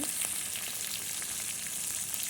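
Small shrimp fry in a pan for Bengali shrimp with Malabar spinach, a steady close sizzle with fine crackling spatter throughout and no talk.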